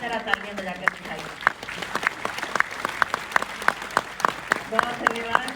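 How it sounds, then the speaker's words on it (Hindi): Audience applause at a Hindi poetry gathering (kavi sammelan) in Rourkela: a crowd clapping in a steady patter of sharp hand claps, moderately loud and near, with a few voices underneath. "अब प्रपात की तरह तालियां बजाकर दिखाइए।"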